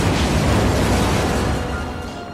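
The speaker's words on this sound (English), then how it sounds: "resulting in Jack sacrificing himself by blowing up the house" A house blowing up in a film scene: a loud, sustained rumbling blast that fills the whole clip with dense low boom and debris noise, slowly fading toward the end.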